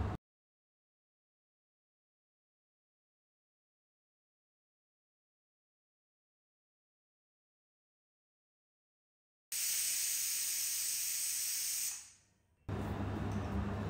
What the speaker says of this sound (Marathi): कुकरमध्ये छोले ॲड करून 1 तांब्या पाणी घालायचं आहे आणि त्यात थोडासा सोडा ॲड करून आपल्याला 5 ते 6 शिट्ट्या देऊन घ्यायच्या आहेत